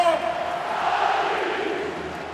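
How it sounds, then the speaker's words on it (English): A handball arena crowd at a European championship match between Serbia and Croatia roars in a sustained swell of cheering after a goalkeeper's save, loud and broad, with a commentator's voice over it. "that's what you heard the cheer start before the shot even"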